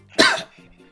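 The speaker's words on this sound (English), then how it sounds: "A cough I have." A single sharp, close cough bursts out and fades quickly, followed by a faint murmur.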